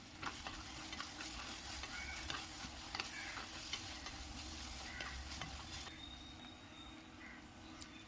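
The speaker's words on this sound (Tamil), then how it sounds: "இப்போது நான் அரைச்சி வச்சுருந்த எல்லாமே போட்டுட்டு மீடியம் ப்ரௌன் கலர் வர வரைக்கும் நான் ஃப்ரை பண்ணுறேன்." Ground masala paste frying in oil for a village-style fish curry, a soft continuous sizzle with scattered stirring scrapes, fairly faint, while crows caw in the background.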